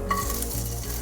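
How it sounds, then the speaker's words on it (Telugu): Green chilies frying in plenty of oil give a continuous close, even sizzle with a faint stirring scrape, lasting about a second with no speech. "బాగా ఆయిల్ వేసి వేయించుకున్నాను"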